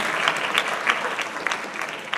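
Applause for Dottor Muscatello at a conference on youth, politics and Europe in Sapri: a crowd claps continuously, moderately loud and even, with no talking.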